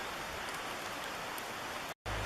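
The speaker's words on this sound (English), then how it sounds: "That's all we got, rain. Rain, rain, rain, rain." Rain falls outdoors on a trail in Sitka, Alaska, a soft, even hiss of drops that continues steadily, briefly cutting out near the end before resuming, with no voices.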